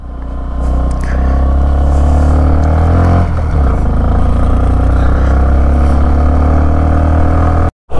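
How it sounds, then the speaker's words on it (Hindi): A motorcycle on a mountain road in Ladakh runs loud and close, its engine droning steadily and rising as it pulls away, with a brief dip near the end. "चलो तो फिलहाल बाइक को स्टार्ट करते हैं और आगे बढ़ते।"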